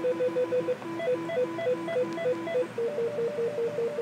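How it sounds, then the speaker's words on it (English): Electronic ringtone preview on an IP desk phone, a bright repeating two-note melodic pattern, clear and close, playing alone without talk. "The ringtone, so I can select a different ringtone."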